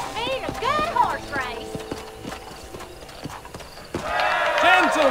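Horse hooves clip-clopping in the video game Red Dead Redemption, steady hoofbeats with a whinny, while voices talk and shout over the top.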